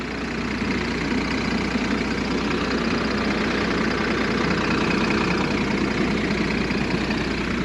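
Cummins 330 diesel engine of a 2001 Monaco Diplomat 38D Class A motorhome idling, a steady loud low rumble with constant knocking texture throughout, heard close with no talking.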